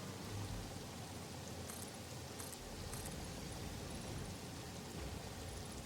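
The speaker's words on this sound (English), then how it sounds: "It is genuinely cool that the rain makes different sounds against metal surfaces than against, like, natural surfaces in the ground and all that" Steady rain falling in the Satisfactory video game, a dense even hiss of drops with a few brief higher pattering taps, quiet and continuous.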